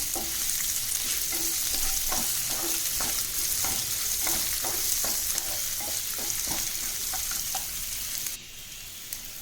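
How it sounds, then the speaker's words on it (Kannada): Finely chopped onions sizzle in a pan with curry leaves, a steady close hiss. A spoon scrapes in a regular stirring rhythm throughout, and the frying quiets slightly near the end. "ಈಗ ಸಣ್ಣದಾಗಿ ಹೆಚ್ಕೊಂಡಿರೋ ಈರುಳ್ಳಿನ ಹಾಕಿ ಫ್ರೈ ಮಾಡ್ಕೋಬೇಕು"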